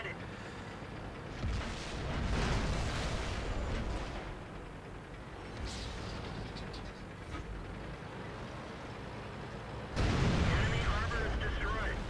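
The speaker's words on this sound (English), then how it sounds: "And of course, here comes artillery." Artillery shells slam down in a World of Tanks battle around an E-75 Tier 9 heavy tank: heavy booming blasts, one early and a louder one near the end, over constant rumbling combat noise, with someone talking throughout.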